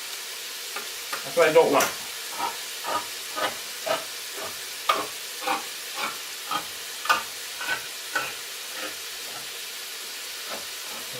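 Garlic frying in a pan for homemade marinara sauce, a soft sizzle punctuated by a regular series of stirring scrapes about every half second, with a short spoken remark near the start.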